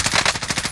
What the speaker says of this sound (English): Someone just shooting in up there.